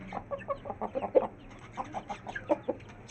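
Free-roaming Aseel hens clucking nearby in a yard, a run of short irregular clucks and soft calls, moderately loud with low background hum, no talking.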